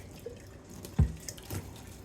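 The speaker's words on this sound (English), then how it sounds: "I got the jar in the sink, and I'm just going to run water in it, around it," Tap water runs over and around a quart canning jar in a kitchen sink: a faint, short splash with one soft knock, fairly quiet overall.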